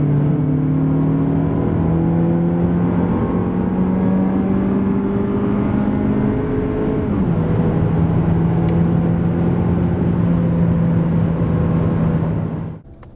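A 2024 Mazda CX-30 with the 2.0 Skyactiv X petrol engine pulls hard from 90 to 140 km/h, its drone climbing steadily through the gears with a brief dip at the shift, heard from inside the cabin.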